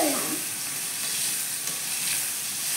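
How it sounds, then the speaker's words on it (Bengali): Pasta is stirred and fried in a wok, a loud continuous sizzle close by with scraping stirring sounds throughout. "তো আমি নেড়ে নিচ্ছি, এই যে।"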